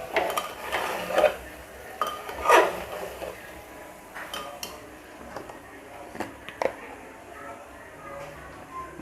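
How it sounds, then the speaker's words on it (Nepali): Khasi goat meat curry being stirred in a pot near the end of cooking, with a few scattered scrapes and clinks of a spoon against the metal, some louder knocks standing out over faint background noise. "यसलाई हल्का चलाइदिएँ।"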